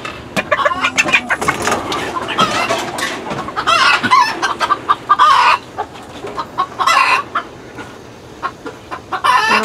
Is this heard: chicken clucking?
yes